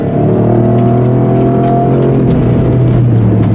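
A 2023 Ford Raptor R with a 700 hp engine accelerates hard, its loud, steady engine roar rising close to the microphone for a few seconds.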